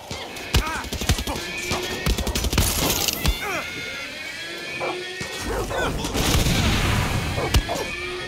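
Weapon fire during an outpost-clearing fight in Far Cry 6, with sharp repeated gunshots scattered across a busy, loud game mix of crashes, impacts and effects.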